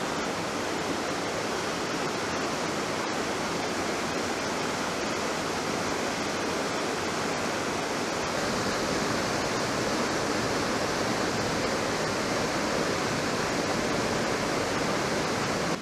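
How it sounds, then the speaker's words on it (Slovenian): A waterfall in the Fratarica gorge roars steadily and loudly from close by, a dense unbroken rush of falling water that fills the whole stretch with no voices. "tukaj bo pa prvi slap"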